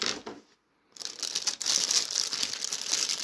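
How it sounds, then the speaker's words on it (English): Plastic bags holding the parts of a Thunderbird 2 model kit crinkle close by, a sharp rustle that breaks off for a moment and then resumes, crackling on steadily. "You get a few plastic bags containing the parts."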